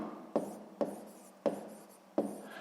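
A pen scratches across paper while a sixth-grade math exercise is worked, four short sharp strokes at a steady pace, close and quiet with no talking.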